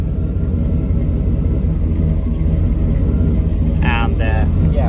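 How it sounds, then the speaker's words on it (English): Car engine idling roughly with a skipping misfire, a steady loud low rumble throughout that stumbles near the end, with brief tonal chirps overlapping. "as you can hear, we still have this sort of skipping, missing on idle"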